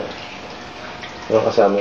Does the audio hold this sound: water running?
yes